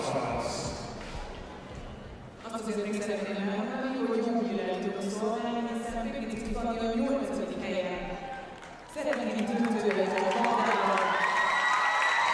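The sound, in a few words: warm round of applause for gymnast in arena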